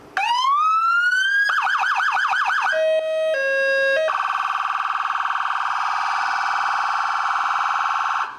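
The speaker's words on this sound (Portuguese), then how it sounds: "Essa é a Yelp. Ela dá uma característica de que uma emergência está em andamento e o trânsito mais pesado." An ambulance siren cycles through several electronic patterns, a rising wail, a fast warble and a two-tone alternation, then settles into a steady buzzing tone, loud and close with no voices.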